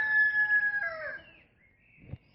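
A rooster or chicken crows in a long drawn-out call that tails off, followed by a brief low cluck or thump, heard fairly close in a quiet outdoor setting beside a shed.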